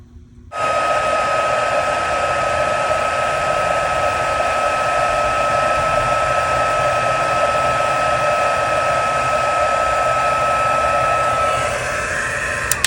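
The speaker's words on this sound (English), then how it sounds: "And then just emboss, heat emboss this." Heat tool used to melt silver embossing powder, a steady high-pitched fan whir with a bright electrical whine that starts abruptly, runs unchanged for about eleven seconds, then shifts slightly as it switches off.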